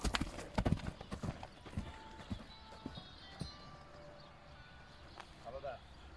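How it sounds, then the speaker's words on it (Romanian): Hooves of a five-year-old Polish stallion clip-clopping as it walks, a series of distinct, fairly close knocks that thin out and fade, with people talking. "Un cal foarte frumos."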